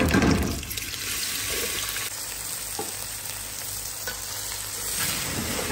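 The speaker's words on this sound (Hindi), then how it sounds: "तो इसमें अब हम ये सारे चावल डाल देंगे।" Rice is tipped into a pan of cumin seeds sizzling in hot oil, giving a steady, moderately loud frying hiss with some stirring and scraping over about six seconds, with no speech.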